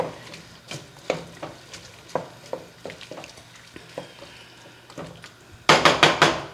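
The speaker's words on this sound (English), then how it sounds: "we'll just stir these around a little bit and let them start getting translucent." Onions being stirred in a hot frying pan, a steady series of scraping, tapping utensil strokes over a soft sizzle, close and fairly loud, ending in a quick burst of louder clatters.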